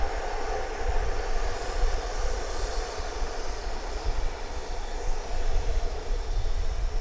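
A distant, low jet rumble from an Airbus A319 airliner arriving at DFW airport, steady and broad, with no voices during the roar.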